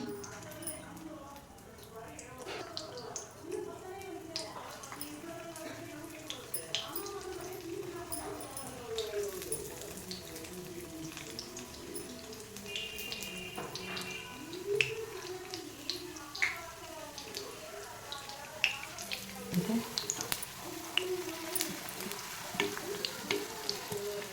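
Homemade chips sizzle and crackle steadily in hot oil throughout, a constant frying hiss with small pops, while a person talks over it.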